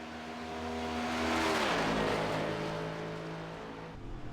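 A race car engine on a flying lap at the Brickyard oval in an HTL Cup Series qualifying run, a loud, steady engine howl that swells as the car nears and then drops in pitch as it passes and fades away.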